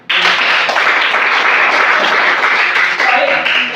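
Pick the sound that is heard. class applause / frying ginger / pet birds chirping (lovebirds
class applause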